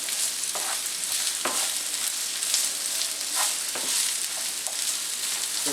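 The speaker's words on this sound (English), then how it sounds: "The sizzle is good." Steady, crackling sizzle of vegetables stir-frying in a hot pan, with occasional clinks and scrapes of stirring, continuous and close throughout.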